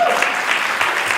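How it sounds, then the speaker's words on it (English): A fundraiser crowd at a stand-up event applauds the president in a steady, dense wash of clapping, loud and sustained through the brief moment with no clear voice above it. "Big round of applause for the president."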